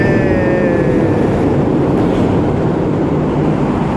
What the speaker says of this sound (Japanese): ちょっと電車うるさいですけど